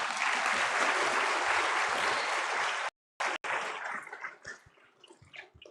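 A large audience at an awards ceremony in a hall claps loudly in a dense, sustained roar that breaks off abruptly for a moment, then resumes and tapers into scattered, fading claps.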